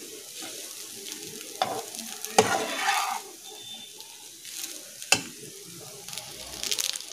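Rice being mixed with fried spices in a hot pan, soft frying sizzle under intermittent scraping and clattering stirs, with a couple of sharper knocks of the utensil against the pan.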